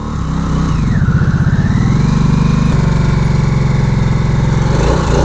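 A 2022 Harley-Davidson Nightster motorcycle engine on a test ride, a loud, close, steady throbbing drone with a rapid pulsing beat, rising briefly in pitch then settling into an even run.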